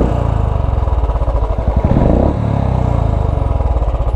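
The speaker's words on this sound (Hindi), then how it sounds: "ये अपना जो एग्जॉस्ट है वो लग चुका है" A motorcycle fitted with a new aftermarket exhaust revs loudly and close, its rhythmic thumping beat rising into a higher rev burst in the middle before settling back to a steady lumpy idle.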